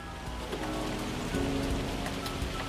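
Hail pelts down in a farming simulator game, a dense steady patter of hard drops striking surfaces against a constant low rumble, with no voices.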